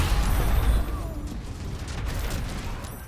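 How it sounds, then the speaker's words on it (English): Smoke powder barrels blowing up together in the video game Baldur's Gate 3, a loud low boom that rolls off into a rumbling, crackling decay over a few seconds. "I dropped 5 smoke powder barrels, followed up by a minor illusion to get everyone into position for a very satisfying explosion."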